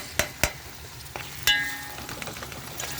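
Crushed garlic cloves dropped into hot oil with browned onion, giving a soft steady sizzle with a few sharp clinks of a spoon against the pan near the start.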